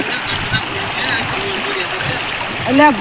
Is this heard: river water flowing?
yes